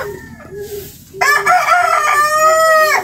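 A rooster crows loudly and close by, with hens clucking softly in a backyard cage before and under the crow.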